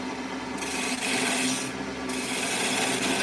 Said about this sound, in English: That's what we're using is the spindle gouge.